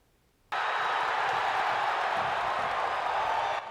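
A sellout stadium crowd cheers a Hoosier football victory, a sudden swell of roaring, whooping voices and applause that holds loud and steady for about three seconds before cutting off.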